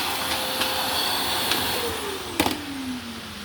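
A vacuum cleaner runs steadily during a quick kitchen clean-up of dust and paint debris, a constant whirring whine with shifting pitch as the nozzle moves, plus brief clacks.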